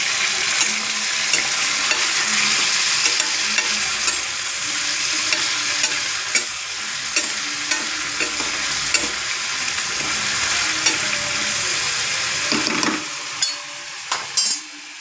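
Green chillies, onion and tomato sizzling and frying in a pan while being stirred, a loud continuous crackle with scraping of the spoon, a few sharp clinks near the end.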